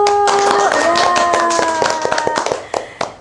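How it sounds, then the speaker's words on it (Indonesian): Audience clapping at a talk with the parents of a disabled swimming athlete from Majalengka. A voice is heard at first over scattered claps, which then thin into a few sharp, separate hand claps that taper off. "Kita tepuk tangan dulu."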